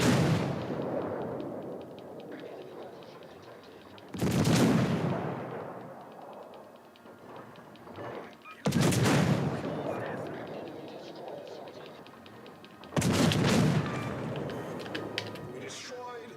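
Warship guns in the World of Warships: Legends naval battle game fire in four loud, booming salvos spaced a few seconds apart, each rolling off slowly under steady game background noise.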